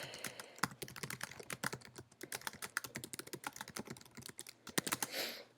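Quick, uneven computer keyboard typing of a short note, close and clear, with dense bursts of keystrokes and brief pauses between words, no talking.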